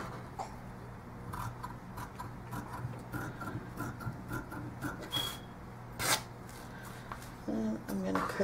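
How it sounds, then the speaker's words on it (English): Scissors snip through tutu fabric in a series of short, dry cuts at close range, rasping softly over a low background hum. "And then show you real quick with the scissors."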